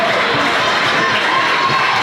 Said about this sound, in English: Another really nice crowd is filled in here.